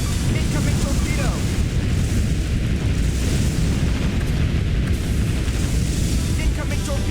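A torpedo strikes a warship in Warship Gunner 2, producing a continuous loud, rumbling roar of explosion and churning noise that holds steady for several seconds, with a voice faintly present underneath.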